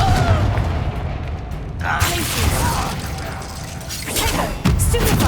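Confringo explosive spell cast in Hogwarts Legacy, a fiery crackling blast and rumbling debris with mechanical clanks, loud and close, followed by another sharp impact near the end.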